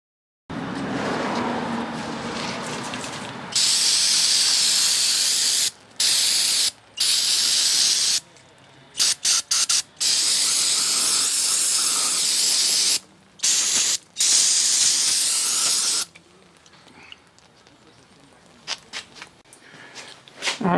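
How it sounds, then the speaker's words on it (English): Aerosol cleaner sprayed in repeated bursts onto a Suzuki DT 25 hp outboard carburetor, loud hissing blasts of a second or two each separated by short pauses, with softer handling noises between. "I'm just doing a little quick clean on the Suzuki carb."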